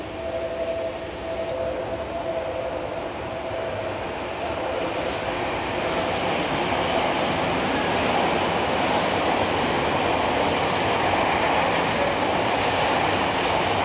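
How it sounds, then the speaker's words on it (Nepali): A train runs past on track 1 of a station platform, a loud, steady rumble with rail rattle that builds slightly and holds for the whole stretch, with no talk over it. "ट्र्याक नम्बर 1 को ट्रेन गयो।"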